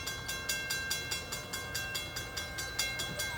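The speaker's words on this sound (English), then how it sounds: "Here comes that southbound CSX Toledo subdivision" A southbound CSX freight train on the Toledo subdivision, Ohio, passes at a steady pace with a regular clickety-clack of wheels over rail joints, fairly faint and distant, with no talking.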